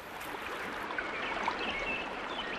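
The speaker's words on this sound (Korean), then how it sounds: "새소리 물소리가 들리는 곳으로 가보니 작은 샘이 하나 있었는데" Soft, steady trickling water from a small forest spring on Maninsan, the source of Daejeoncheon stream, runs continuously at a low level, gentle and close, with no voices.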